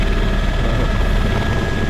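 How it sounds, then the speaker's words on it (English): A helicopter engine in Flight Simulator X roars as a steady, loud, dense whine and rotor drone with no break and no voices. "helicopter"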